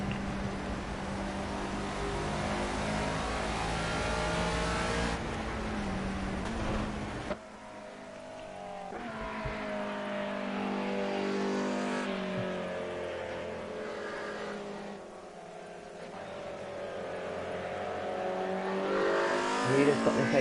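Historic touring race cars circling a track, their engines roaring continuously and loudly as cars rev, shift and sweep past in overlapping waves of sound.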